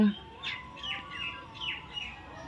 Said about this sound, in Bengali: এত সুন্দর পাখি ডাকছিল, আমি সকাল থেকেই পাখি ডাকে খুব।